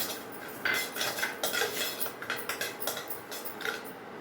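Cumin seeds, poppy seeds and other spices are dropped into a pan and stirred for a spice powder, giving close, rhythmic metallic scrapes and clinks of a utensil against the pan.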